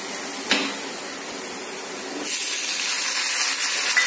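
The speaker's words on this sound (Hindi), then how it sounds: "गोल्डन ब्राउन हो गई है, और अब हम इसमें टमाटर डाल देंगे।" Tomatoes dropped into hot oil with golden-browned fried onions, for tempered moong dal: a sharp hiss bursts in, then a loud, steady sizzle settles and grows even louder midway, close up with no talk.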